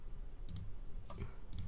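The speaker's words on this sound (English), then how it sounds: "What's he typing? What's he gonna type out?" Keys click on a computer keyboard in short, faint clusters of taps under a steady background hiss, with no voices.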